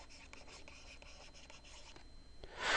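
Handwriting during a chemistry lesson: faint, quiet scratches and rubbing strokes in short bursts. A louder scrape comes at the very end, with no talking.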